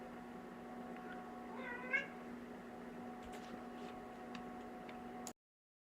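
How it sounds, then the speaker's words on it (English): Faint meows from a domestic cat in the background, one clear rising cry near the start and a few weaker ones later, over a constant low hum and light ticking. "Once again, sorry about the cat."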